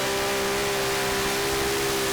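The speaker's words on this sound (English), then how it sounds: "Lots of revs, but not a speed they were hoping for." A pulling tractor's engine revs hard and steady during a European tractor pulling competition in Hungary, a loud, dense, sustained roar with a strong droning tone throughout.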